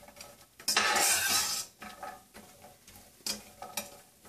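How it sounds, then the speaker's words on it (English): Cashew nuts fried in oil over a low flame for a rice crispy chivda snack, heard as a burst of frying hiss followed by quieter spoon scrapes and clinks against the pan, close and fairly soft. "now we're gonna add some cashew nuts. Cashew nuts don't take too long to fry"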